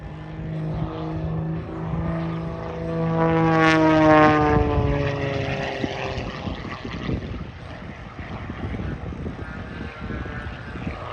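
A propeller airplane drones loudly overhead during an airshow at Oshkosh, its engine pitch sweeping up and down as it performs rolls and an end-over-end tumble, then fading into a distant hum.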